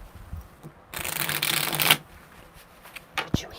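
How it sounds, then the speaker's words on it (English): A deck of tarot cards is riffle-shuffled up close, one loud continuous burst of rapid flicking lasting about a second, then a few light taps and a sharp tap near the end. "one more shuffle just because they're shuffling so well and I love them."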